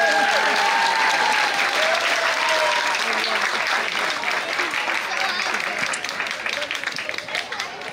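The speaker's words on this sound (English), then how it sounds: "Please give them another round of applause." Schoolchildren and guests at a park grand opening ceremony give a loud, dense round of applause that starts full and gradually thins toward the end, with some crowd murmur mixed in.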